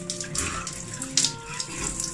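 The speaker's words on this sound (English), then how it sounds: "just go under" Cold water from a shower pours steadily in a continuous loud hiss and splash, with no voices over it.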